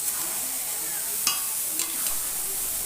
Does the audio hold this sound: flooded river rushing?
no